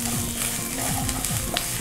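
Ginger paste for chicken kurma frying in a pan gives a steady, close sizzle with a few stirring scrapes throughout. There is no talk.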